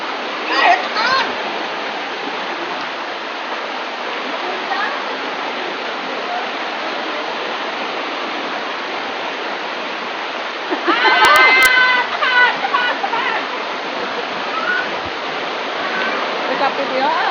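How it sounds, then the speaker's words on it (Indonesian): A river at the Curug Lalay waterfall area in Cihanjuang, Cimahi rushes steadily, continuous broadband water noise with a brief louder splash or clatter partway through and faint voices in the background. "perjalanan selanjutnya kita harus menyeberangi sungai ini"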